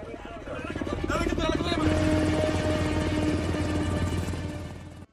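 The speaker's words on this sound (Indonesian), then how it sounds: "Beberapa helikopter mengepung Scotchy." A loud, steady drone of several helicopter rotors with a low thudding hum, mixed with dramatic sound and music throughout, from the film Captain Phillips (2013).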